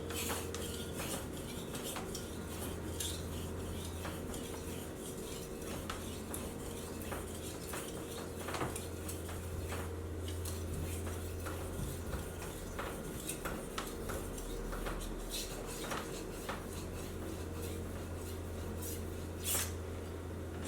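A knife is worked across a whetstone to refine its edge, giving continuous, even scraping strokes at close range with a low steady hum beneath and no talking.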